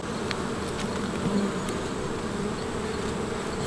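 Honeybees hum steadily in an apiary bee yard, a dense close buzzing swarm that stays constant throughout, with a few brief louder passes near the ear and no speech.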